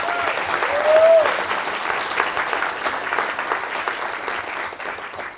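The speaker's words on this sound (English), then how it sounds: "Let's have a round of applause for our phenomenal sponsors." Conference audience applauding its sponsors at closing remarks, a steady wash of many hands clapping that swells early and holds at a lively level throughout.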